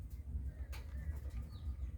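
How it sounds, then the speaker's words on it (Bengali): A pair of green-necked pigeons, the hen sitting on eggs, gives low, soft cooing in a steady throbbing rhythm that repeats through the whole stretch, close by, with no voices. "এই যে এটা হলো সবুজ গলা কবুতর, দেখুন অনেক সুন্দর এক জোড়া কবুতর,"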